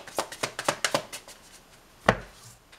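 Oracle cards are shuffled on a table in a series of quick, soft riffling taps, then a single sharper tap near the end, all close and quiet with no voices.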